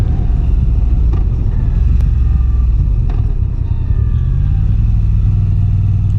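A 2022 Moto Guzzi V9 Bobber engine chugs steadily uphill, a low, throaty rumble under load with rising revs near the end, heard close from the rider's position with wind noise.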